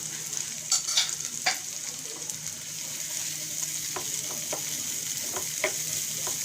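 Chopped onions with garlic frying in a pan, a steady close sizzle with a few sharp scraping stirs and clinks early on and later, no talking.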